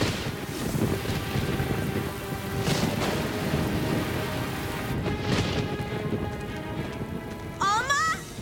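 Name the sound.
rain outside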